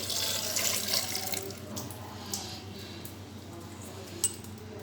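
Tap water pours into soaked kabuli chickpeas in a cooking pot. A strong, hissy gush fills the first second and a half, then it drops to a quieter trickle with a few faint clinks. No one speaks.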